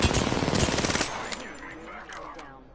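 Rapid automatic gunfire in the game Apex Legends, a dense burst of sharp shots lasting about a second before fading into quieter game sounds.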